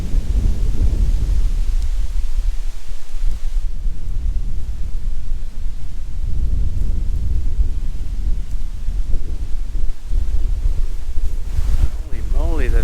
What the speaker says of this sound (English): Holy moly, this wind!